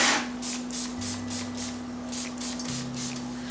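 A series of short, rapid hissing sprays repeat in quick bursts, fairly close, over a steady low electrical hum.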